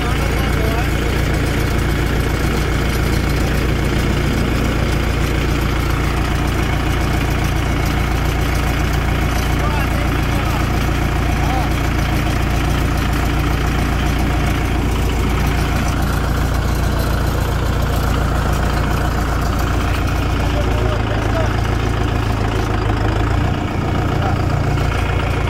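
A Mahindra 585 DI XP Plus 50HP tractor engine runs steadily at idle with a deep, constant low drone, loud and close throughout, dipping briefly near the end while a voice talks over it.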